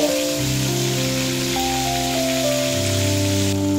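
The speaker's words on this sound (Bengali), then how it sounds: "ফুলকপি সামান্য পরিমাণে লবণ আর সামান্য হলুদের গুঁড়ো দিয়ে ভেজে নেব।" Cauliflower with a little salt and turmeric fries in oil previously used for frying fish, giving a steady, continuous loud sizzle under sustained tonal music, with no talking.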